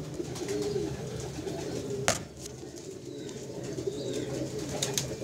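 Teddy breed pigeons, a breeder pair, coo steadily in low rolling murmurs close by, with one sharp click or knock partway through and faint higher chirps in the background.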